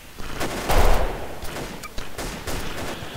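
Heckler & Koch G36 rifle gunfire in the shooter game Delta Force: Xtreme 2, a dense burst of shots peaking early, then scattered single cracks and further bursts at a steady, moderately loud level.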